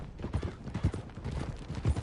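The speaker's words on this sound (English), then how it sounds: "Are you riding that horse, or is that horse riding you?" Horse hooves trot in a steady clip-clop rhythm in Red Dead Redemption 2, a mid-loud repeating pattern of thuds heard alone without talk.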